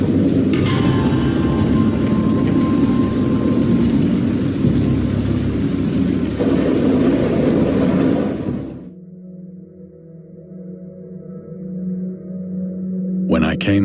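A heavy thunderstorm in the game Dagon brings dense, loud rain with rolling low thunder for about eight seconds, then drops to a quieter rumble with a lingering drone before swelling again at the end.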